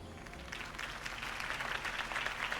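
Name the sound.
applause in video game Batman - The Telltale Series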